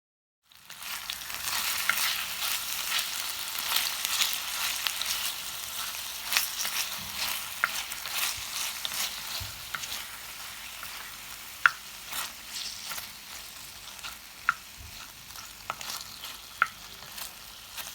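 Lamb pieces sear in hot olive and vegetable oil in a traditional tagine, a dense steady sizzle that starts abruptly and crackles on, with occasional sharp pops and stirring clinks, no talk.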